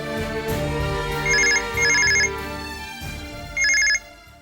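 A telephone rings indoors in three electronic trilling bursts with pauses between them, clear and fairly close, over a steady tonal background hum and no talk.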